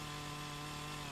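A chainsaw cuts tree limbs in Farming Simulator 25, set in the Risoux Forest: a steady, dense motor drone with a sustained low hum that holds level the whole time, with no talking.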